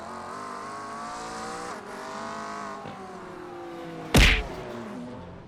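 Race car engines droning and shifting in iRacing as a BMW and a Ferrari fight for seventh in a pack, steady engine tone with one sharp loud thwack near the end.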